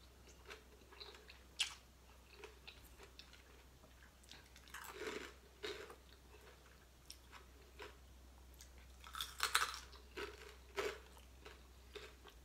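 Crispy fried pork chewed close up, with scattered loud crunching bites and quieter chewing in between, over a faint low background hum.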